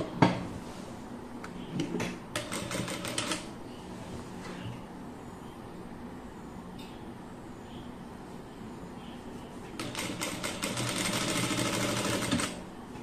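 A sewing machine stitches fabric that has been folded inward along its lower edge, in two clear runs: a short burst early on and a longer, steady one near the end, with quieter room sound between.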